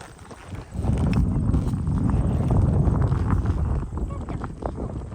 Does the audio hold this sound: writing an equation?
no